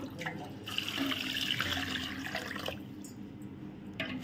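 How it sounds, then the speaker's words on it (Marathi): Running tap water splashing over mutton pieces being rinsed in a vessel, a steady close gush with brief clinks and sloshes, easing toward the end, no voices. "पाणी तर इथे घेतलंय मटण, तर स्वच्छ 2-3 पाण्याने धुवून घेते"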